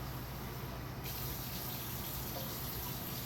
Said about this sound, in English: You rinse your basin 3 times.